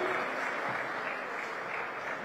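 A crowd claps steadily and loudly in one sustained burst to welcome Manoj Muntashir at a Holi event, forming a dense wash of clapping with no voices over it.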